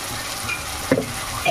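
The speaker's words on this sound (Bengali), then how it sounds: "এবার এই জিরে বাটাটাকে ভালো করে তেলে ভেজে নিতে হবে।" A cumin paste with ginger and garlic frying in hot oil for a chicken-skin curry: a soft continuous sizzle with a few quick stirring scrapes and a brief clink partway through.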